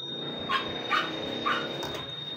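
A dog gives four short, sharp barks at an even pace, somewhat distant, over a steady background hum.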